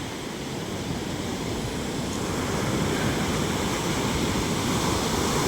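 Sea waves splash and wash along a shore at Bucana, a continuous broadband roar of surf and spray, steady and fairly loud with no voices.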